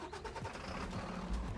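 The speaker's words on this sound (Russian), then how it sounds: "О, грузовая машина" A truck engine in a multiplayer survival video game hums steadily at low pitch, close and continuous, with rough rumbling pulses and a brief heavier surge near the end, and no one talking over it.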